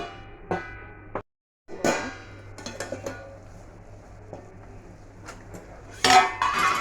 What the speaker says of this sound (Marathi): आता आपण झाकण ठेवून घेऊ भाजीवरती